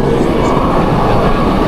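Tram rolling past on a street near the Nowa Huta depot in Kraków, a loud, close, steady rumble with rail noise filling the whole moment.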